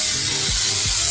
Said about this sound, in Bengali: একটু সাঁতলে নেই যাতে আদা রসুনের কাঁচা গন্ধটা যায়।